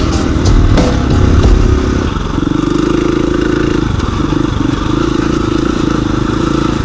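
A KTM 690 Rally Raid motorcycle rides over a rocky trail, its single-cylinder engine droning loud and close with rhythmic pulsing and rattling clatter throughout.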